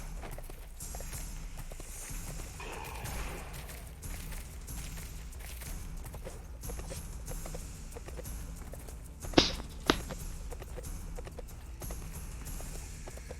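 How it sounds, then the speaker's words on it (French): Steady clip-clop of a ridden horse's hooves in the fantasy video game Sacred 2, a moderate-paced trot over a continuous low background hum, with a couple of brief sharp sounds partway through and no talking. "En plus, il est assez rapide ce cheval, c'est bien."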